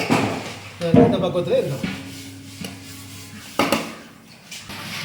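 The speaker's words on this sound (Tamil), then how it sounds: "ஒரு வாட்டி கிண்டி விடுறேன்." A spoon scraping and turning vegetable biryani in a large cooking pot, with a few clanks and a soft sizzle. A person speaks over the stirring.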